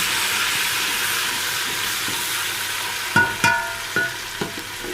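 Chopped tomatoes tumble into a pan of fried onions for aloo chicken, setting off a few sharp sizzling bursts over a steady background hiss of frying.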